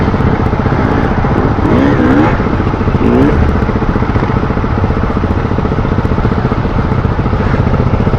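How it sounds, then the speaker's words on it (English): A KTM 690 motorcycle engine drones loudly and continuously while climbing a steep ascent, with a rough pulsing note and brief rising revs, dominating throughout. "That's a KTM 690, I think."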